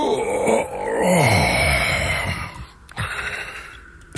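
A squirrel character in an audiobook gives a loud, drawn-out yawn with a wavering moaning tone, followed by groaning, effortful stretching noises, all voiced closely and clearly with no narration over it. The sounds come from a human voice imitating the squirrel.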